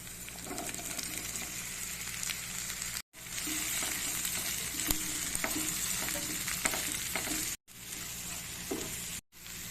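Watermelon rind sautés in a pan for a Tamil-style kootu, a close, steady sizzle and fry with repeated stirring scrapes, broken by a few short cuts.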